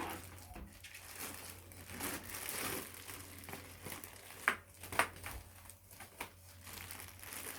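A Logitech keyboard is pulled out of its protective plastic wrapping, with soft continuous crinkling and rustling and a few sharper crackles near the middle, fairly quiet and close.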